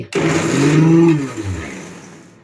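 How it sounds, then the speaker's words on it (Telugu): Mixer grinder whirs loudly as it grinds garlic, coriander and other ingredients into a paste, starting abruptly and winding down over a couple of seconds. "వీటన్నింటిని మెత్తగా మిక్సీ చేసుకోవాలి"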